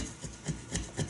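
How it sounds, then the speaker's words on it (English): A razor blade scrapes cured repair resin off a stone-damaged windshield, making a few short, close rasping strokes in a quick rhythm with no talking. "I'm going to take a razor blade and scrape off all of the"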